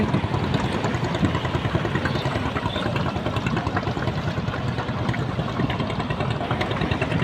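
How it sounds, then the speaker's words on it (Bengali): A motorized wooden boat engine on the Buriganga river in Dhaka gives off a steady, loud mechanical drone with a rough churning texture, running without a break and with no one talking. "এখান দিয়ে যন্ত্রচালিত নৌকাগুলো চলে যায় গাবতলির দিকে"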